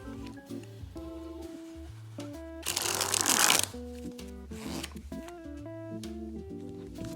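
Crinkly handling of a new deck of playing cards from a smooth matte tuck box, soft shuffling and sliding with scattered taps, then a louder burst of rustling around the middle, with faint tonal music underneath.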